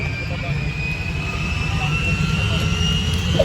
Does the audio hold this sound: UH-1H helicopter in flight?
yes